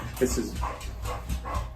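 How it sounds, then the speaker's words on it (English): A pet dog breathes softly and rhythmically in an indoor room, a series of low, hushed puffs and snuffles that repeat roughly every half second, faint and in the background. "That's my dog breathing in the background there."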